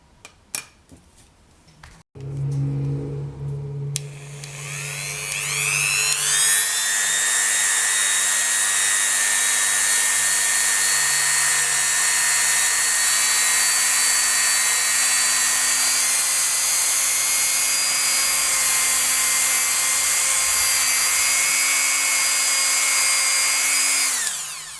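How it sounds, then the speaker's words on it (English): A Dremel 3000 rotary tool with a cotton buffing wheel polishes a polymer clay bead, spinning up after a few brief clicks into a loud, steady high-pitched whine that holds for about twenty seconds before winding down. "I'm using a Dremel 3000 with a cotton buffing wheel"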